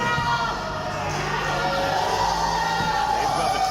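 A wrestling crowd at a tag team title match cheers and roars throughout, a dense loud wash of voices and whoops that fills the hall, with a commentator talking over it.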